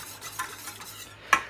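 A spoon stirring a thickening sauce of orange juice, honey, cajun spice and mustard in a pan: faint soft scraping and gentle bubbling, punctuated by a couple of light metallic clinks, the last one louder near the end.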